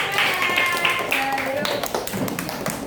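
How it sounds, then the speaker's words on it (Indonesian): Children in an elementary school classroom clap their hands in a short burst, bright and close, with a few sung or called-out tones mixed over the claps. "tepuk tangan"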